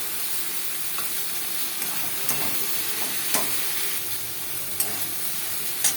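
Eggplant with salt and turmeric cooks in a pan, a steady moderate sizzling hiss with occasional sharp clicks of a stirring spoon against the metal.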